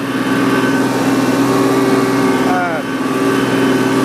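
Small blue tractor pulling a cultivator across a food plot field, its engine a steady, loud, close drone that runs unbroken throughout.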